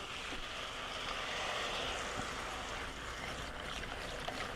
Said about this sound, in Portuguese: Vou botar água aqui.